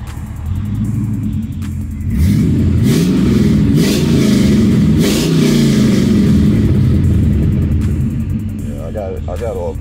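A car engine with a faulty oil pressure sensor runs with a deep rumble, briefly revving louder in the middle before settling back, with a person talking over it.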